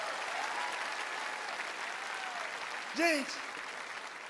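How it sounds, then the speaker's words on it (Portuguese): Applause from a church congregation, a soft, steady wash of clapping throughout with a brief spoken word over it partway through. "Pode aplaudir o Senhor."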